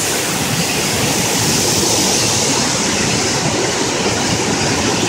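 Mambukal's third falls roar as a steady, loud, unbroken rush of falling water, with no voices over it.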